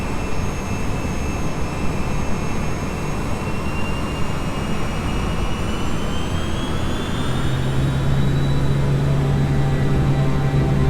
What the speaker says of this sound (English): Aerosucre Flight 157 begins its takeoff roll at 5:18 p.m.